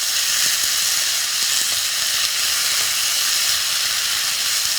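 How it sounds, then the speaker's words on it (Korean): Vegetables and seasoning stir-frying in a pan for spicy squid, a loud, even hiss of frying that runs steadily throughout with no pauses. "양념을 골고루 볶아주세요"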